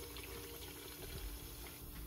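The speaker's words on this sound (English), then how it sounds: "I just fill up the bottle with some water" Tap water running into a spray bottle, a faint steady stream filling it continuously and alone for a couple of seconds.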